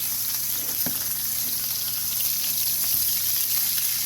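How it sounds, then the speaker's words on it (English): Meat sears in a hot pan after being flipped, throwing off a dense, continuous close-up sizzle with a few faint clicks of the utensil. "Then we're going to flip it, get it seared again, crumble it up."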